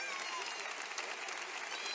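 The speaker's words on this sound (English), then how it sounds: "A round of applause from the fans here." Fans at the Badminton European Championships in Huelva applaud in a steady, dense patter that holds for the whole moment, moderately distant within the arena.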